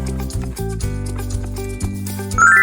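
A horse sounds in a children's learning cartoon about animal homes, with clip-clop hooves over a bed of music, then a rising high whinny at the end.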